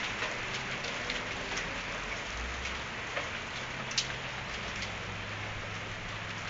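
Steady rain falls during a Kentucky storm, a dense hiss of drops pattering on surfaces with a low rumble underneath and an occasional sharper drip.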